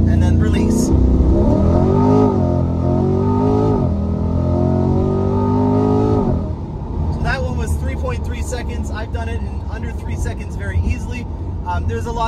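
A Chevrolet C8 Corvette launches hard using launch control on a retired airfield, its engine note climbing loudly through rising revs and then shifting to a rougher drive. A person talks over the engine.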